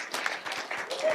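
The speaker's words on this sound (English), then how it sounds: "Big round of applause for our panel." Brief burst of audience applause for a Q&A panel of young adults, a dense wash of clapping that swells and fades in waves over about a second.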